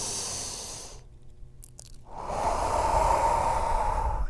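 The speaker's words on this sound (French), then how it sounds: "On se prend une dernière grande inspiration ici." A deep breath drawn during a classic Pilates level 2 routine, a soft airy breathing sound that swells and holds steady over the final seconds, close and moderately loud, with no talking.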